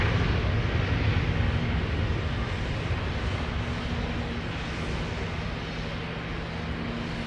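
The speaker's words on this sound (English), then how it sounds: "KLM E190 to Copenhagen." KLM Embraer E190 jet taking off for Copenhagen at Schiphol's Polderbaan, a constant broad engine roar with a low hum, fairly distant and easing slightly over a few seconds.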